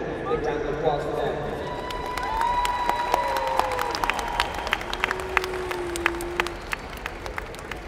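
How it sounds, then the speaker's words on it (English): Audience applause at a high school graduation ceremony, a moderate, steady spread of clapping with scattered sharp claps, under and around talk. "Big round of applause for them."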